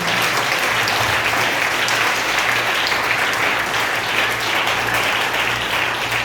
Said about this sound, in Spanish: Aplauda a Dios en esa mañana